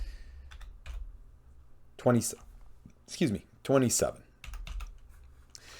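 Bursts of computer keyboard typing, close and crisp, come in short runs between stretches of a man's speech, with soft clicks continuing under and after his talking.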